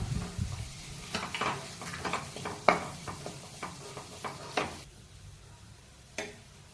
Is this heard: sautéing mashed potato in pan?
yes